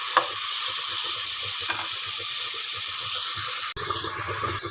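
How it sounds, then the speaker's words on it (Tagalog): Squid sautéing with ginger in a hot pan, a steady close sizzle with stirring scrapes throughout and a brief clatter near the end. "Pag nag-igisa ko sa luya para tanggal lamsa."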